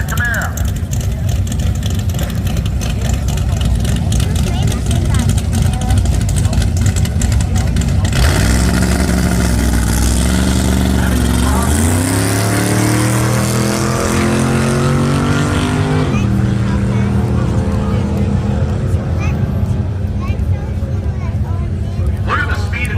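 Camaro drag racing at Byron Dragway, a loud engine roar that swells and climbs in pitch as the car launches and pulls away, with crowd noise and talk mixed in throughout.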